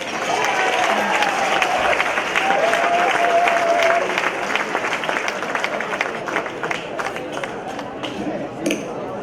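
Gala audience applauding and cheering, a loud sustained wall of clapping with shouts and whistles that stays dense before thinning slightly toward the end.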